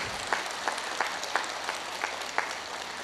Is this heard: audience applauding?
yes